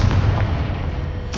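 Confringo blasting spell from the video game Hogwarts Legacy, a loud, dense burst with a deep rumbling body that holds steady throughout, close and unaccompanied.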